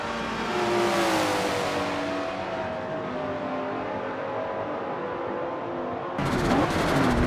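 Mercedes and Ferrari race cars in the Forza racing game, engines droning steadily with rising and falling pitch, then a sharp burst of harsher noise near the end; no talk.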